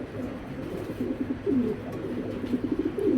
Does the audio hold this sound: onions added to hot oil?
no